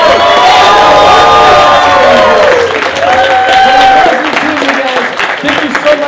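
A lively convention crowd at a Power Rangers fan event applauds and cheers for the Psycho Rangers, with whoops, children's shouts and steady clapping running loudly throughout the clip.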